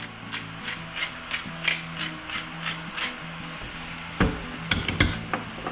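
A hand pepper mill cracks fresh black pepper over a venison tater tot casserole, a series of quiet rhythmic ratcheting grinds, with a couple of sharper clicks near the end.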